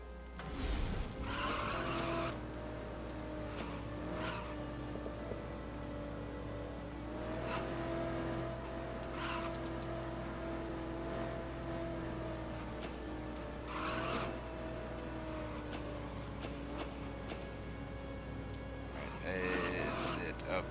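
The 1989 Batmobile from the LEGO Batman 3: Beyond Gotham video game drives hard. Its engine drones steadily with revving surges, and repeated sharp tire squeals and skids come at intervals, including a burst near the end.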